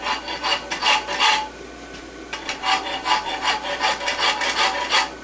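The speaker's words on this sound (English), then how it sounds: "you can just kind of slightly angle your file a little bit. And basically what I'm doing there is I'm just taking the sharp corner off" Hand rasp filing the sharp corner off a forged French hind horseshoe with masselot clips, made from 3/8 x 1 stock: a loud, close run of rhythmic rasping strokes, a brief pause, then another steady series of strokes.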